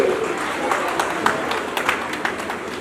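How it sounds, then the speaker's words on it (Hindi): An audience at a school annual day claps for the children, a steady, dense patter of many hands with sharper individual claps popping through, moderately loud and continuous throughout. "इन बच्चों के लिए जोरदार तालियां प्लीज बच्चे दीजिए।"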